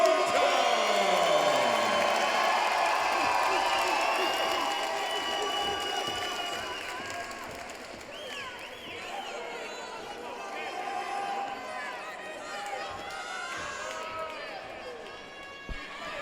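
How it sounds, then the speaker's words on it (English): A crowd at the Main Street Armory in Rochester, New York, roars and cheers at an amateur fight-league bout, a steady, loud wash of noise lasting throughout, with an announcer's voice over it. "The crowd has come alive here at the Main Street Armory in Rochester, New York"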